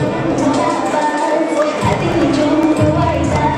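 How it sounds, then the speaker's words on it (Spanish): A crowd at a fashion show for the Ayacucho brand bursts into strong applause and cheering, a loud continuous roar of clapping and shouts with voices mixed in throughout. "Espectacular presentación, fuertes aplausos."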